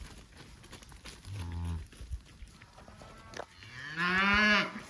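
Farm cattle bellow during a hot, dry fall spell: one short moo, then a longer, louder, rising moo near the end, both fairly close against quiet pasture background.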